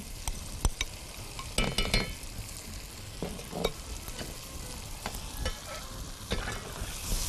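Peanut, sesame and coconut paste for Hyderabadi bagare baingan roasting and sizzling in a pan, with steady frying hiss and repeated scraping stirs and light utensil clinks, close and alone.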